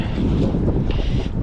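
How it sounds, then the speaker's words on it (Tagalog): Strong wind roars steadily into the microphone beside the water at a fishing spot, loud and continuous with no voices. "Medyo mahangin po mga toto."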